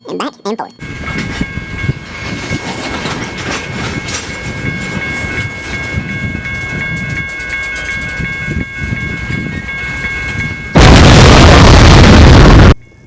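An M subway train rumbles past with steady clattering and a high metallic whine, ending in a loud roaring rush of noise.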